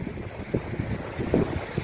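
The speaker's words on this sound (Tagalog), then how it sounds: "Sarap ng hangin dito." Gusty wind buffeting close up on the Skyway Stage 3 elevated expressway, a low rushing roar with uneven bursts of rumble.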